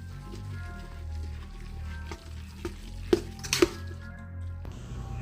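Cheese stirred into a pot of grits gives soft, wet scraping and squishing under a low kitchen hum, followed by a couple of sharper clinks from the spoon against the pot near the end.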